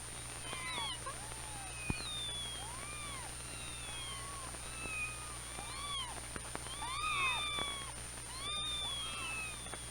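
Several kittens meow repeatedly in thin, high, overlapping cries at moderate distance over a faint steady hum, no speech.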